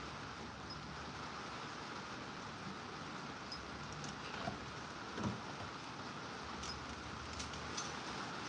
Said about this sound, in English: Well, it's pouring.